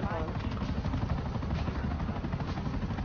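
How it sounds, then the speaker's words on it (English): Dense, steady rotor drone of a helicopter in GTA 5 Online filling the whole clip, loud and close, with low rumble throughout. "I'm getting in a helicopter."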